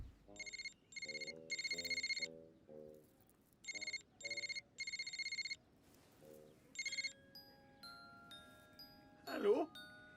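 An electronic telephone rings in repeated bursts of bright, two-toned trills separated by short pauses, fairly quiet and clean, followed by a brief pickup sound at the end.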